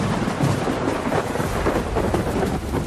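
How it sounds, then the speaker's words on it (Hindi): Rain and thunder for a horror story scene, a dense, steady downpour with low rolling thunder rumbling underneath throughout, loud and continuous. "पराशर ने इतना सुना और ठीक उसी वक्त बारिश भी शुरू हुई।"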